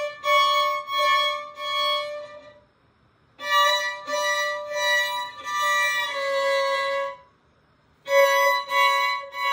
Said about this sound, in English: Make sure you hear that slide.